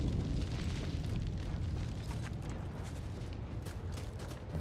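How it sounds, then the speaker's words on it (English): Deep rumbling explosions in the game The Outer Worlds 2 roll continuously, heavy low booms with crackling bursts layered on top, loud and dense throughout. "Those explosions don't sound fun."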